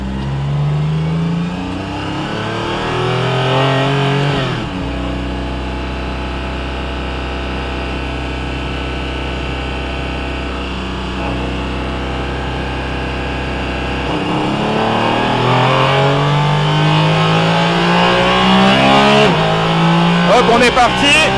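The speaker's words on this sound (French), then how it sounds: "Le son du Flat 6 de la GT3 RS." A Porsche GT3 RS flat-six engine in a Cayman GT4 RS Clubsport revs up and accelerates hard, its pitch climbing through several gear changes, loud and close throughout.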